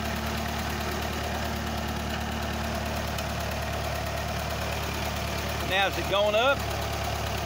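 Ferguson TE20 tractor with its engine idling steadily in a low, even chug throughout, while a voice briefly speaks near the end.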